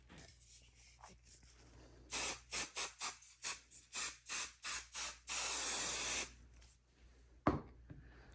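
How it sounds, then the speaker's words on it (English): Adhesive spray can spraying onto fabric while sewing a zipper pouch, a quick run of about ten short hissing bursts followed by one longer continuous spray, close and loud, with no talking. "Reason why we're using this adhesive spray is to kind of help us not have to have so many pins"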